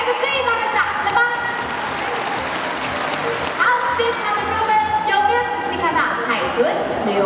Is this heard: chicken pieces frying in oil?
no